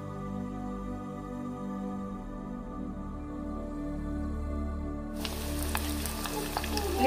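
Pre-cooked semiya vermicelli fries in hot oil with a steady close sizzle that swells and brightens into sharper crackling partway through; no voices.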